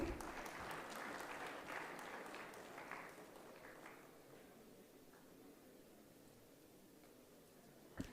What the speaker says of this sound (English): A big round of applause, everyone.